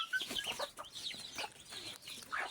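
A young desi chicken clucks and peeps in soft, repeated calls while being given plain water, close and fairly quiet with no talk.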